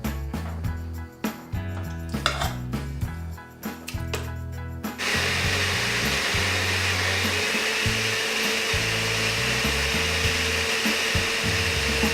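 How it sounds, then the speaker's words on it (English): A blender whirring loudly through a vegetable tortilla soup mixture, pulsing in short bursts at first, then running continuously at a steady high-pitched roar. "I'll blend the rest of this up"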